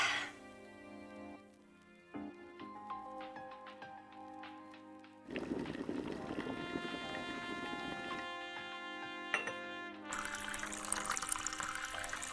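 Water pouring from an espresso machine in the Chicken Police café, a steady trickling stream over soft background music, growing fuller and louder partway through.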